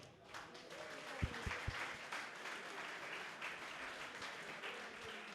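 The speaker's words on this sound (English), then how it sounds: "que je vous demande d'applaudir" An audience at a London event of the Pan-Africanity Tour applauds in a sustained, dense wash of clapping, with a few sharp low thumps early on and steady crowd noise throughout.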